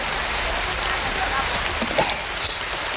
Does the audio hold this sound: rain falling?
yes